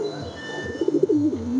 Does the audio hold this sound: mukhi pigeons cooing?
yes